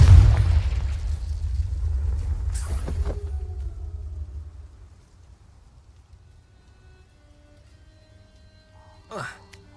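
A Confringo blast in Hogwarts Legacy lands as a heavy, low boom that rumbles for several seconds before dying away, with a brief sharp whoosh later on and no talk.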